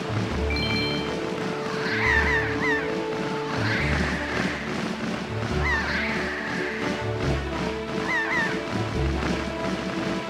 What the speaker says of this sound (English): That sounds like bad birds.